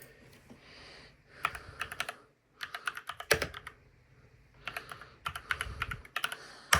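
Typing on a full French AZERTY computer keyboard, bursts of rapid key clicks separated by short pauses, close and crisp with no talk.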